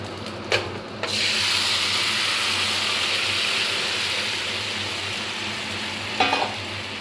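Fish curry sizzles loudly in a kadai, a steady broad hiss that starts abruptly after a couple of scraping stirs and carries on evenly, with another brief scrape near the end, close up.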